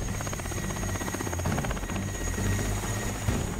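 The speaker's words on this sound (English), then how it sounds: "Helicopters take us to opposite side." A helicopter in flight over Arctic sea ice near the North Pole, its rotor giving a steady, loud, rapid chopping drone throughout with no voices.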